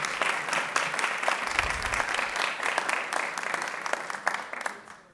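Applause fills a committee meeting room after a request to name a courthouse, steady dense clapping from many people, close and continuous, tapering off at the end.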